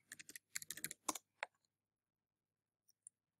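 Quick bursts of computer keyboard typing as a password is entered, a run of close, crisp key clicks over about a second and a half, then silence broken by two faint isolated taps.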